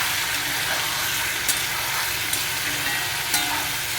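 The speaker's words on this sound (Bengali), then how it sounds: "এবার এটা ভাজা হোক।" Chicken pieces frying in a pan over fairly high gas, giving a continuous loud hiss of sizzling with a few sharp spattering pops, heard close and without any talking.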